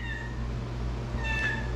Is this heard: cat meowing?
yes